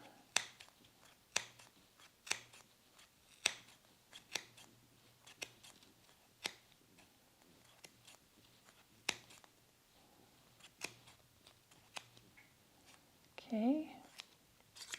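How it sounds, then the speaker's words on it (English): Sharp scissors snip white yarn wound on an extra small Clover pom-pom maker, a close series of crisp, separate cuts at an irregular pace with short pauses between them. Near the end comes a brief burst of handling noise. "down this center line, we're going to trim the yarn"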